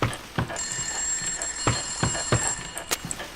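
A telephone rings in the horror video game White Day remake, a continuous high electronic trill running for a few seconds over scattered clicks and thumps of nearby movement.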